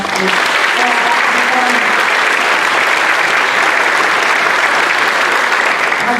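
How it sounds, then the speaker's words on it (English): Strong, steady applause from a middle school spring band concert audience, continuous dense clapping filling the hall for the whole stretch at high volume. "We give them a round of applause."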